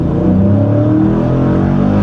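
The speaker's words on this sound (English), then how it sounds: "I think this would be a good time to go ahead and switch it to track, and we have made that switch, and the car just got a little bit louder." A Dodge Challenger Scat Pack 392 V8 in track mode holds a loud, steady, deep rumble close by, with a dense low growl and no pauses or voices.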